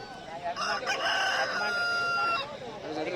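A rooster crows loudly and close at a poultry market, one long sustained call lasting about two seconds, with faint voices around it.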